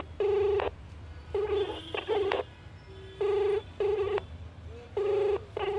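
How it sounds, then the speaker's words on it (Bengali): A telephone rings out on a call to a mobile phone, repeating paired electronic ring bursts with short pauses between them, clear and steady over a low background hum. "রিং হচ্ছে।"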